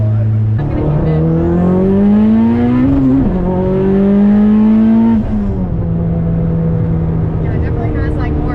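The engine of a K-swapped Subaru STI revs loudly and close, its pitch climbing and then holding high before dropping back to a rough idle.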